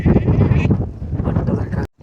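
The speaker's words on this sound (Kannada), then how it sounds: "ಕುರಿ ಹೋಗೋದು." Sheep bleating close by in a rural village setting, a loud continuous run of overlapping bleats from several animals that cuts off abruptly near the end.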